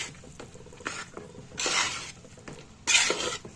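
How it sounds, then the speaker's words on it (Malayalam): A spoon stirs tomato rice in a pan over a low flame, giving irregular bursts of scraping and clatter against the metal with a soft sizzle between strokes, close and fairly quiet, with no talk. "ഞാനിവിടെ ചോറിട്ടതിന് ശേഷം ചെറിയ ഫ്ലെയിമിൽ വെച്ചിട്ടാണ് മിക്സ് ചെയ്തെടുക്കുന്നത്"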